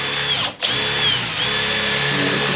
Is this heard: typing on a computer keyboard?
no